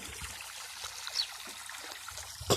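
Water from a solar-powered pump runs into a farm pond, a soft continuous trickle and splash heard faintly up close, with a slightly louder splash near the end.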